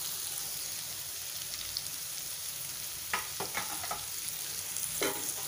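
Okra masala frying in a pan, a steady close sizzle broken by a few scraping stirring strokes near the end.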